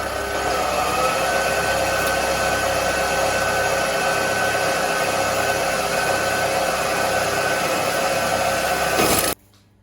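Mini metal lathe with a 500 watt brushless motor cutting metal, a loud continuous whirring drone with a grinding edge that holds steady for about nine seconds, then cuts off abruptly.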